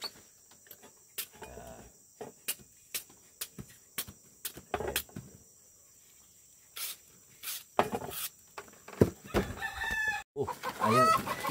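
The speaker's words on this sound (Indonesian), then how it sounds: "Jadi ayam bertelur, setelah keluar dia langsung bunyi gitu guys" A hen clucks in bursts after laying an egg in a rural Dayak village, loud close cackles scattered across the span with crickets humming steadily behind and a rooster-like call among them, no talk.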